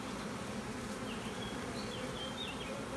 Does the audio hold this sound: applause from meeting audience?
no